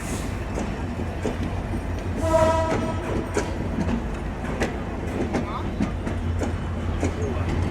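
Chitra Express pulling out of a railway station in Bangladesh, a steady rumble of rolling cars with rhythmic wheel clatter and a brief horn-like tone, heard close by with voices in the background.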